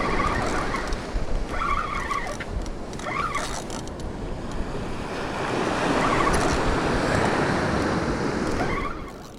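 Waves washing up on an Australian beach in winter, a continuous close roar of surf that swells and recedes, with wind buffeting the microphone.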